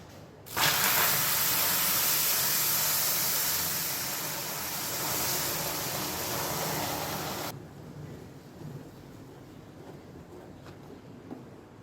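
Boiled milk poured into melted sugar for caramel pudding sets off a loud, steady broadband hiss for several seconds that then cuts off, leaving a quieter simmering bubble.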